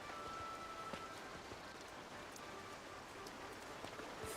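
Rainfall in the video game Disney Dreamlight Valley, a faint, even patter of drops with soft rustling, continuous and without talk.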